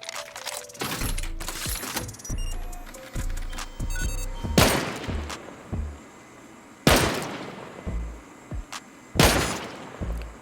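Sharp, loud shots from a bolt-action rifle fitted with a muzzle boost ring out in a video game, spaced a few seconds apart, each with a ringing decay, among lighter clicks and clatter.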